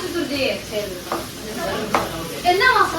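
Vegetables sauté in a home kitchen pan with a soft, steady sizzle, broken by a few stirring scrapes and clinks, while a voice talks over the cooking.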